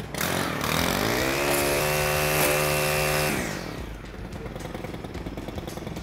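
A string trimmer runs at a loud, steady high whine for about three seconds as its line is bumped out to the limiter, then the engine spins down and fades to a low idle.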